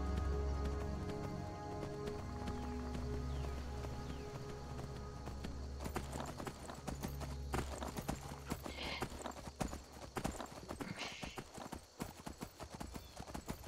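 Horse hooves clip-clop steadily while riding in the Skyrim video game, a continuous rhythmic trot mixed over game music and ambience, with occasional louder hoof strikes and a brief whinny-like note.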